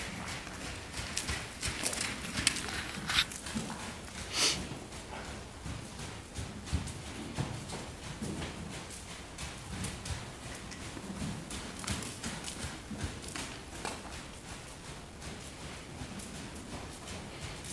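Hooves clip-clop steadily as a young crossbred colt is ridden, a continuous rhythmic beat of footfalls over a noisy outdoor background.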